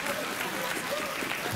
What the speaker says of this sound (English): I hate it when applause is started by the warm-up comedian.